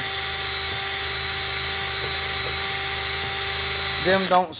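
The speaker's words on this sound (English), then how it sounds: "Hit with a grinder, little wire brush around it." Angle grinder fitted with a wire brush cleaning a front wheel hub on a 2008 Nissan Maxima, a loud steady high whine that spins down at the end as a voice begins.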